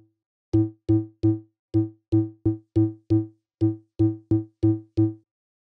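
Deep bass notes from a Boss RC-505 loop station using a filter and ring modulator pulse in a clean, punchy rhythmic pattern of about thirteen short, loud, close hits separated by silence.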